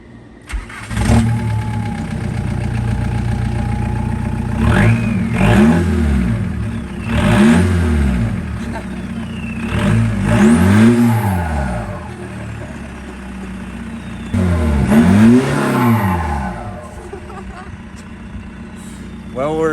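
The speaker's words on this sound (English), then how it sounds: "Now we're gonna start it and see how it sounds." A lifted turbo diesel VW Beetle fitted with twin semi-truck exhaust stacks cranks and fires, then gives several loud, rising and falling revs over a rough idle, close by, with people talking over it.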